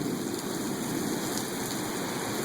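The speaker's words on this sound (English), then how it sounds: "the wind's blowing the rain at us now" Wind-blown rain hisses in a steady, even wash close by as a thunderstorm approaches near the Lynn/Saugus line, with no pauses and no talk.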